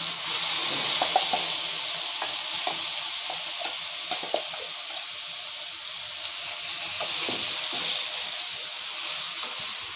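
Steady sizzling and hissing from grated carrot frying in a pan over low flame, with occasional light stirring clicks, continuous and fairly close.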